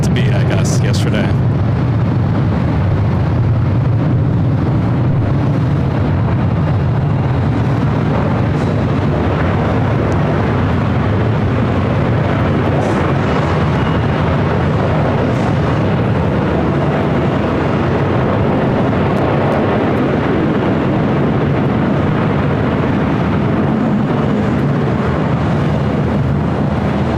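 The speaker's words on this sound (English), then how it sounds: "Atlantic Dreamliner arriving on the south side" A Virgin Atlantic Boeing 787 Dreamliner arrives on the south side of LAX, on runway 25 left, as a continuous broad roar with wind buffeting, while a person talks over it.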